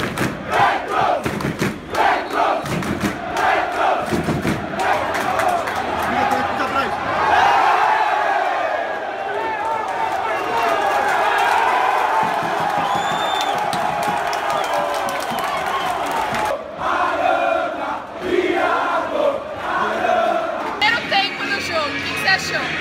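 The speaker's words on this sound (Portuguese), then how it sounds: "O São Paulo abre o placar, explode a torcida." A crowd in a pub sports bar erupts as São Paulo scores against Corinthians, roaring cheers, shouts and scattered clapping swelling and holding, with a commentator and nearby voices talking over the din.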